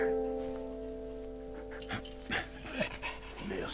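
In the Valiant Hearts war game, a dog pants in quick, short breaths and gives a few small whimpers over a low steady hum in a bombed-out setting, with no talking.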